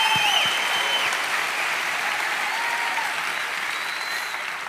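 A church congregation bursts into loud, sustained applause that fades slightly toward the end, with a few whoops rising over the clapping.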